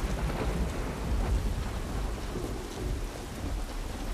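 Steady heavy rain pours continuously with low rumbling thunder underneath in the video game The Last of Us Remake, a dense, loud wash of sound from start to finish.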